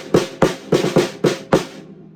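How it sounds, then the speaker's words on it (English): Snare drum playing the Lesson 25 rudiment, two grace notes leading into three alternating strokes, repeated five times in an even rhythm; crisp, close and loud, with no talking. "lesson 25 is 2 grace notes followed by 3 alternating notes."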